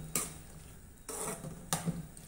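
A spoon stirs cooked chana dal into snake gourd in a pot, giving three soft scraping, clinking passes with short gaps between them, close and quiet.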